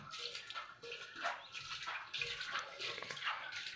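Water is sprinkled bit by bit onto an old clay water pot, making soft, faint splashes and trickles in short irregular bursts with small drips between them.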